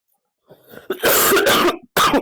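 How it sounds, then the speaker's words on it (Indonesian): A sick hiker on Mount Argopuro coughs several times in harsh, loud bursts close by, preceded by a few softer throaty sounds. "bentar guys, hostnya batuk"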